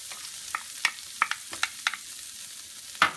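Onions and shishito peppers fry in butter in a pan, with sharp scraping stirs and clinks breaking through a soft, close sizzle at an uneven rhythm.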